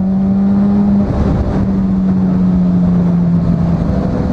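A Suzuki GSX600 sport motorcycle with an open exhaust running only the end tip and no baffle drones loud and steady at a constant pitch, close by, with no talking.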